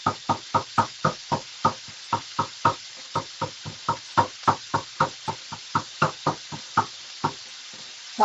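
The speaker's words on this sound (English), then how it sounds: "Chopping it up nice and fine, okay?" Knife chopping food finely on a board for a beef bowl, a quick run of about two dozen sharp, evenly spaced taps, close and crisp with no talking.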